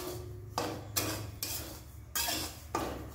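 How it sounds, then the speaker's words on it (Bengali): Dry semolina being roasted in a dry kadai over a low gas flame, a spoon scraping and stirring in regular strokes, each sweep a loud gritty rasp close by, with no talking. "এইভাবে গ্যাসটা আস্তে করে সুজিগুলো ভেজে নেব।"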